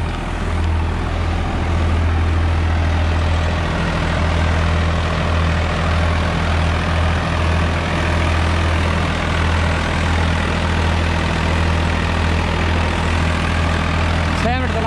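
A Swaraj 855 XM tractor's heavy diesel engine runs steadily at idle with a deep, constant low rumble, close by and loud throughout.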